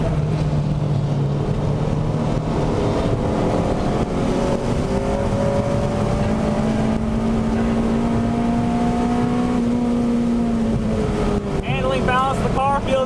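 A stock front-wheel-drive Honda Civic Si on new tires runs a race track with its engine droning loudly from inside the cabin, pitch rising and falling through gears and revving higher near the end, with occasional voice in the car.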